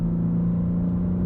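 A 2022 BMW M3 exhaust holds a deep, steady droning rev, loud and close, a sustained low engine tone with no breaks or voices.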